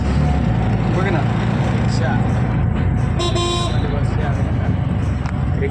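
An auto rickshaw rides through busy road traffic on the way to a beach, its engine and road noise droning steadily while car horns toot nearby, with voices in the background.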